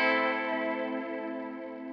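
An electric guitar chord rings out through a pedal set to a wide, slow modulation, the sustained tone gently swirling and decaying over a couple of seconds, heard alone with no voice.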